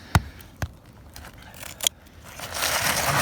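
Vinyl scissors snip through a cold asphalt roof shingle during a repair: three crisp, close cutting clicks at uneven intervals, then a rising, rough scraping rustle as the blades work through the material.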